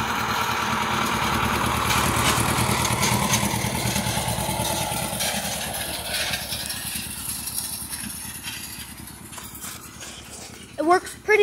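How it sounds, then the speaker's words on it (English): A John Deere 720 diesel tractor out raking hay runs with a steady, throbbing engine note that fades somewhat over time, with people talking over it. "There's the John Deere 720 diesel."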